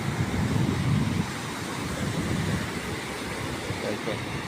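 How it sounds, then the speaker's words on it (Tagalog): Big ocean waves roll and crash at Baler, a broad, rushing surf roar with wind buffeting the microphone, loudest at the start and then a steady wash. "Po, lalaki po ng alon dito sa lugar ng Baler."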